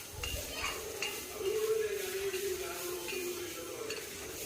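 A chilli mixture for a drumstick leaf and egg thoran is stirred in a pan, with soft sizzling, a scraping spoon and occasional light clinks against the metal, all fairly quiet.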